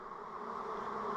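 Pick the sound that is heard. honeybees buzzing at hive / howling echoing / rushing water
honeybees buzzing at hive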